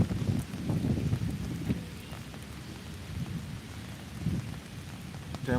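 Heavy rain falls on a city street in East New York, a steady dense wash with a few low rumbles mixed in, heard up close with no one speaking.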